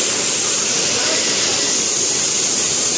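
Waterfall at Jatmai Dham in Gariaband district pours in a steady, loud broadband rush of falling water, unbroken and close throughout with no distinct events.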